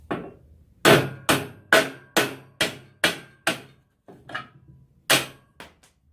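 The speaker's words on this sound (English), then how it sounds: "So we're just going to knock that slug out with the hammer." Hard hammer blows knock a metal slug out in a steady series of about eight sharp, ringing knocks, then a few lighter taps and one more strong hit.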